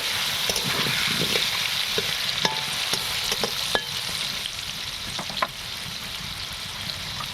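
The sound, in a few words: potatoes with salt and turmeric frying in oil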